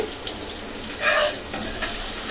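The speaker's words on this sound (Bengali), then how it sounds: "3-4 মিনিটের মতন ভুনে নিব" Egg and potato curry masala frying in a pan, with a steady soft sizzle and a few brief louder stirring scrapes, close and alone without any voices.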